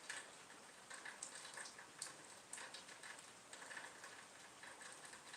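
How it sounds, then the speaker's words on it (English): Rainwater runs and patters through a gutter nearby, a faint, uneven stream of soft drips and ticks with no voices. "Probably hear the rain coming through that gutter over there."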